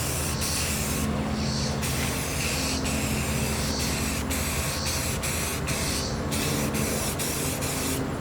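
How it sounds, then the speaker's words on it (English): Spray paint hissing from an aerosol can onto a homemade angel blade prop, a close, loud continuous spray broken into several bursts with brief pauses between them. "it doesn't matter how much of this I spray on here, even if the paint starts to run"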